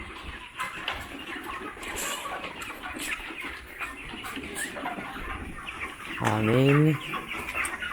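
Young chicks in a poultry house keep up a busy chorus of high cheeping and clucking, with a louder, nearer bird call rising briefly near the end and a short bit of speech.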